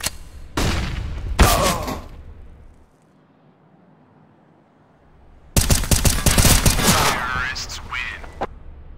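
In a video game, a flashbang goes off among bursts of rapid gunfire, two sharp volleys separated by a brief near-silent pause.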